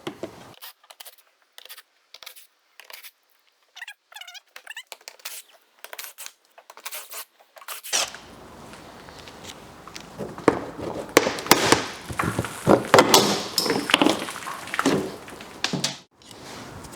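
Sharp plastic clicks and snaps as plastic clips and small fasteners are pried out of an Audi A5/A4 underbody cover, sparse at first, then denser rattling and handling noise nearby.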